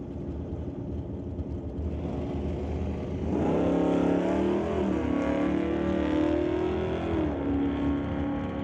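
A Ford Mustang and a 1981 Chevy Malibu launch in a drag race, engines roaring up from idle into loud, rising revs with gear changes before the sound slowly recedes.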